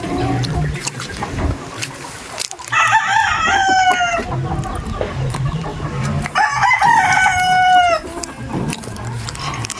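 A rooster crows twice nearby in a breeding pen, two loud drawn-out calls a few seconds apart, over a background of low murmuring and farmyard noise.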